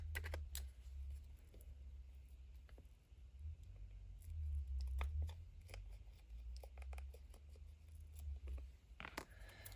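Scissors snip paper for a Halloween junk journal, a run of short, crisp cuts and rustles close by over a steady low hum, with no voices.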